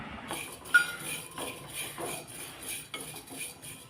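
Coriander seeds dry-roasted over a medium flame in a clay pot, heard as close, quiet scraping and clinking as a utensil stirs them.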